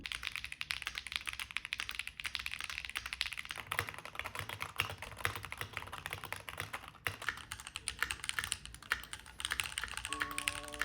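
Steady, rapid clacking of a Lemokey L1 mechanical keyboard with Jupiter Banana switches fills the clip, a continuous close-up patter of keystrokes with brief pauses, no talking.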